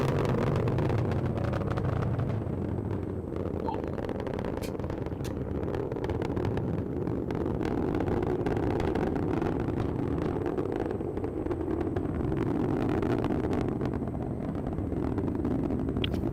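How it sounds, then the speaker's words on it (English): A ULA Vulcan rocket, powered by BE-4 engines with solid rocket boosters, roars continuously during ascent on its second certification flight, a deep, steady, wind-buffeted rumble heard from a distance with no breaks for the whole stretch. "The BE4 is now throttling down in preparation for SRB burnout."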